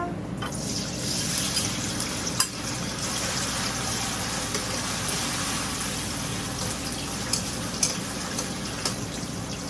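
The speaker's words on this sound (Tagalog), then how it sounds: "Okay, mag-fry na po tayo." Food sizzles in a frying pan as budget sisig is cooked, a steady, dense hiss with a few faint pops and clicks, close and continuous throughout.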